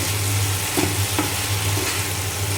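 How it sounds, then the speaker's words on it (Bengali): Potatoes fry with green chilies, onion, salt and turmeric in a pan, giving a continuous close sizzle with a couple of soft stirring knocks and no voices. "এইখানে আমি এই যে আলু ভাজিটা করে নিচ্ছি"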